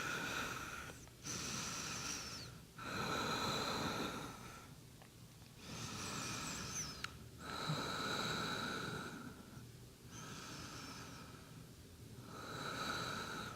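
Slow, deep breathing during a yoga class, long nasal inhales and exhales alternating in a steady rhythm about every two seconds, close and soft, with no speech.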